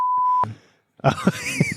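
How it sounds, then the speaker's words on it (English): A single steady censor beep sounds for about half a second, followed by a short silence and then a few low, groaning vocal noises. "Beep beep beep beep."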